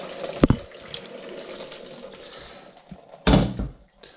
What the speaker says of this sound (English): We take them to the sink. We're going to put our green beans into the sieve here.